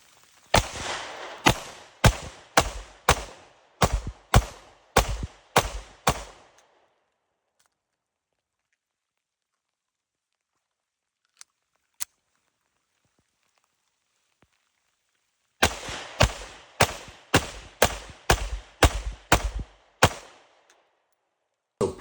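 A Sig P365 subcompact pistol fires two rapid strings of about a dozen sharp, loud shots each, separated by a long quiet stretch with one or two isolated cracks, heard close and with no talk.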